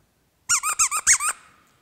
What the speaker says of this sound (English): Squeaky brains.